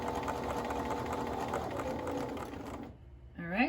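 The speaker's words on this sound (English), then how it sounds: "Presser foot down and continue to sew." A Bernina Activa sewing machine runs steadily as it stitches a seam, a loud, continuous whirring and mechanical chatter that stops near the end, followed by a brief rising squeak.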